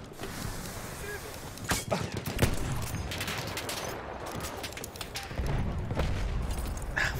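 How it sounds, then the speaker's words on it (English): A frag grenade blast bursts out amid continuous gunfire in the Battlefield 1 video game, with a loud rumbling explosion near the middle over dense crackling shots, and a voice talking over the chaos. "Frag grenade got me."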